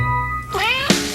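A cat in a Meow Mix television commercial gives one clear, rising-and-falling meow close to the microphone, set against a music bed and followed by a short thump.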